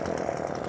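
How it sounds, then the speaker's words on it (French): A chainsaw engine drones steadily and loudly, a continuous buzzing whine with no pauses. "C'est une tronçonneuse."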